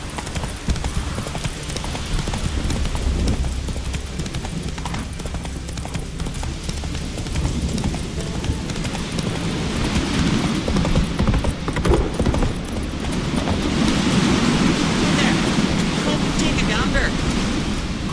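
Hooves clop rapidly and continuously as Roach the horse gallops in The Witcher 3, with a rushing outdoor wash of wind and ambient game sound rising toward the end.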